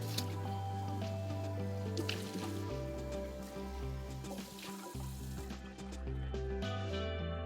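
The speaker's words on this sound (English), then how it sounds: "I'm gonna rinse this out because I need to put oil in it." An empty buttermilk container being rinsed under running water, with a steady tap flow, sloshing and dripping close by, plus a low hum underneath. No one speaks.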